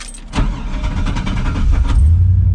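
An old GMC truck engine cranks in freezing cold weather, with a brief starter grind that catches into a loud, rough-running engine close by.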